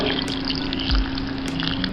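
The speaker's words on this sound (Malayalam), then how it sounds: "വെള്ളം ഒഴിക്കുകയാണ്" Water poured into a mixer jar while making a wheat dosa batter, a steady broadband pouring wash lasting about two seconds, close and fairly loud with no talk.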